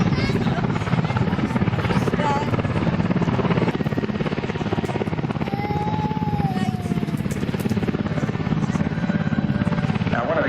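A steady helicopter rotor thrum and engine drone at an air show on Southport's beach fill the whole stretch, loud and close, with no break.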